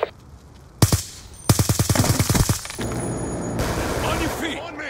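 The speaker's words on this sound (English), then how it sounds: "Be advised, hostile death machine spinning up." Death Machine minigun from Black Ops 2 opening up in long rapid bursts of gunfire, a short burst followed by a sustained rattling stream that gives way to dense battle noise, with a game announcer's voice briefly over it.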